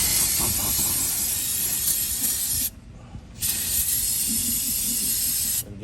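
Brake cleaner sprayed from an aerosol can onto the front brakes of a 2013 Ford C-Max, a loud close continuous hiss in two long bursts separated by a short pause.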